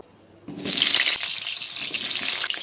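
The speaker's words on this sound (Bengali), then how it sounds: "তেলটি গরম হয়ে গেছে, আমি আলুটি ভেজে নেব।" Potatoes hit hot refined white oil in a wok, starting with a sudden loud sizzle that settles into a steady, close crackling fry with no voices.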